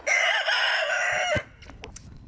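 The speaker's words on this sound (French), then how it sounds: "On a notre petit coq chéri qui est juste là" A rooster on a small backyard flock crows once loudly and close, a long harmonic call lasting over a second before cutting off, followed by a few faint short clucks and soft rustling.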